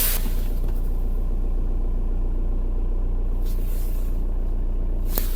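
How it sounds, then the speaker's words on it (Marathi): Diesel Mahindra car engine idling while parked, heard from inside the cabin as a steady low rumble and hum throughout, with a couple of brief clicks and no talking. "स्टँडिंग पोझिशनवरती आत्ता गाडी थांबलेली आहे आणि आयडलिंगवरती तुम्ही आवाज देखील नोटीस करू शकता तो इंजिनचा"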